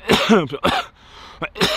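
A man coughs hard several times in quick bursts after a kickboxing fight, with short raspy throat-clearing sounds between them, close and loud.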